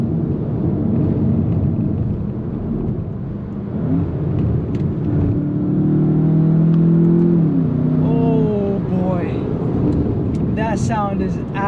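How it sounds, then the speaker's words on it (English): A 2021 Volkswagen Jetta GLI accelerates hard from inside the cabin, its engine a steady close rumble with rising whining tones as the turbo spools through the gears. "In the whine of that turbo, this is amazing."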